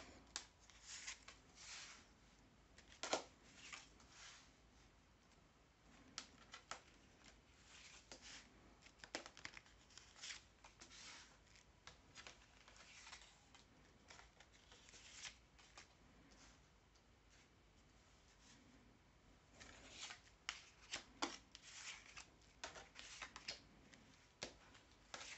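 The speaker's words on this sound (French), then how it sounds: "On se fait un petit tirage à 13 cartes." Tarot cards are shuffled for a 13-card spread: a steady run of soft riffling, slapping and flicking sounds that goes on for the whole stretch, close and fairly quiet, with no talking.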